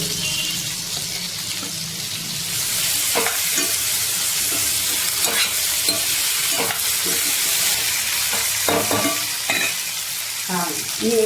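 Raw mango pieces fry and sizzle in a pan under a steady hiss, while a spoon scrapes and stirs them in repeated sharp strokes, close and fairly loud.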